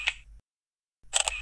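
Two bursts of a Samsung Galaxy camera shutter sound starting a panorama shot, a short crisp click, then a gap of silence, then a busier double-clicking burst, close and clear with no talking.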